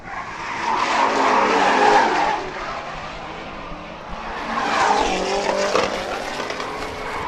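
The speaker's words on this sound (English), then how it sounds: "Kai Nelson's car does not sound happy, Ben." Drift cars at a state series round roar past with engines revving and tires squealing in long sliding swells, loud and fairly close, rising, easing, then building again.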